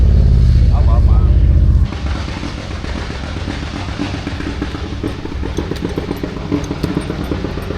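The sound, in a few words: Harley motorcycle engines revving at Beach Bend Raceway drag racing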